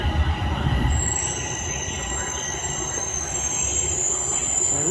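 A TTC subway train at Highway 407 station, rolling rumble with a high, sustained wheel squeal ringing above it, close and steady throughout.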